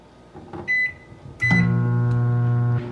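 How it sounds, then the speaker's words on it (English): A microwave oven heating a cup of water: a short beep, then a door or button click, and the loud steady hum of the running oven starting up and holding until the end. "I heat that up in the microwave"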